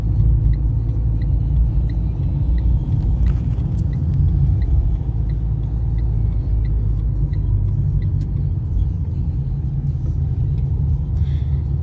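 A car drives a driving-test route with gear changes, including a shift down to second gear; a steady, loud engine and road rumble from inside the cabin holds throughout, with faint ticking of an indicator.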